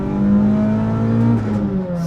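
A car engine revs hard toward a 7,500 RPM redline, its loud rising tone climbing, briefly easing and climbing again before tailing off, heard up close inside a car with no interior.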